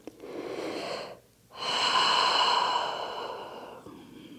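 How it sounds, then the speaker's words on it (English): Slow, deep breathing during a gentle beginner yoga session lying on the belly: one long airy inhale, a short pause, then a long drawn-out exhale, close and soft with no talking. "Deep breath in, long breath out."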